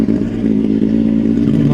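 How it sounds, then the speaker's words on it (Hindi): A 2019 limited-edition Kawasaki Z900 with about 16,000 km and an aftermarket exhaust idles and revs close by, a steady, loud mid-range engine drone with a throbbing rumble throughout. "एक बार आप इसकी आवाज सुनो।"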